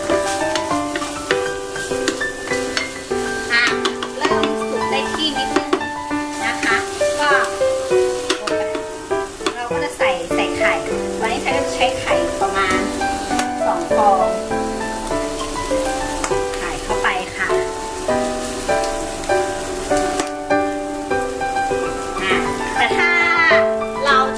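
Fermented pork sausage (naem) with egg fries in a pan, a steady sizzle and stirring under prominent melodic background music that dominates throughout.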